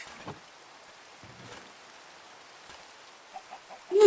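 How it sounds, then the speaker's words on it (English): Chickens in the video game Minecraft give a few short, soft clucks in quick succession near the end, after a mostly quiet stretch with faint scattered noises. "the sounds of the chickens in Minecraft"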